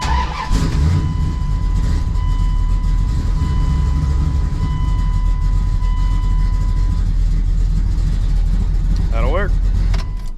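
A Dodge Dakota/Ram pickup with a freshly replaced 450 lph fuel pump cranks and settles into a steady idle, its engine rumble loud and continuous throughout, with someone speaking briefly over it.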